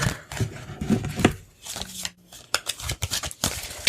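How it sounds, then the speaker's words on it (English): Tarot cards shuffled by hand in irregular bursts of riffling and sliding, close and fairly quiet, with brief pauses between passes and no talk. "I'm going to take my time shuffling on this"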